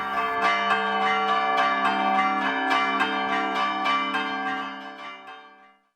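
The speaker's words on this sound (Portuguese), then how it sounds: "todo cuidado é pouco para tocar esses sinos lá em cima" Church bells are rung by hand high up in a tower as part of a solemn religious tradition. Rapid, overlapping loud strikes keep ringing steadily, then the tones fade out together at the end.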